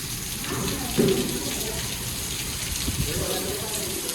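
Steady summer rain pours down on farm fields with a dense, even hiss, close and fairly loud, with faint voices underneath.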